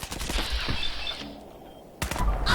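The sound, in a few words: gunfire in a video game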